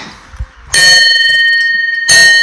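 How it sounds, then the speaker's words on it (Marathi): A metal temple bell on a mountain path to a Mahadev shrine is struck once and rings out loudly with a long, shimmering hum. It is struck again near the end, after a few faint background noises. "बजाते हैं घंटी"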